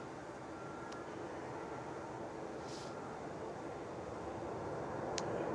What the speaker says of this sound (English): Clear for takeoff, runway 34